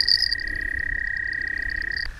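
A tiny leopard frog croaks loudly and close by at the edge of a carp fishing spot, with a steady, buzzing call that holds through the whole stretch over faint outdoor rumble.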